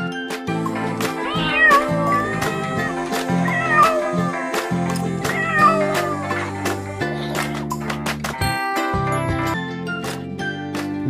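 A cat meows several times over a steady, bouncy musical backing with chimes and plucked notes, the meows sitting clearly above the tune.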